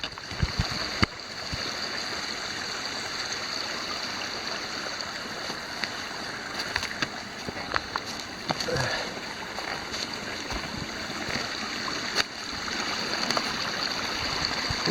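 A creek flows beside a forest hiking trail on the Mid State Trail near Little Pine State Park, giving a steady rushing water sound with scattered footsteps and clunks and a faint voice now and then.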